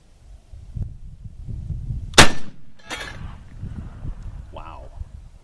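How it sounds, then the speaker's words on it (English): A muzzleloader rifle fires a single sharp, loud shot close by, fired to foul the barrel, followed by a brief echoing tail and quieter outdoor background with some faint voices. "Let's get another shot off and kind of foul this barrel a little bit"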